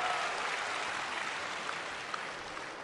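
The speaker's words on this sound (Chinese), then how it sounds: "感谢大家热烈的掌声" Audience applause at a live crosstalk comedy show featuring Gao Feng and Luan Yunping, a dense steady wash of clapping that holds at an even level and thins slightly toward the end.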